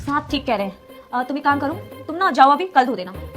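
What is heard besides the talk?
None of the usual background noises is heard.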